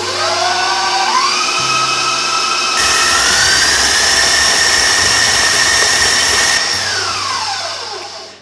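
A stand mixer creams butter and sugar for chocolate peanut butter cup cookie dough, running steadily and loud for the whole stretch, its motor whine climbing as the speed is raised and easing off near the end.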